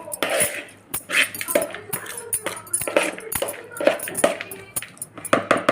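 Aloo chaat being mixed with sauce in a bowl, rapid repeated spoon clinks and scrapes against the bowl in an uneven rhythm, close and fairly loud.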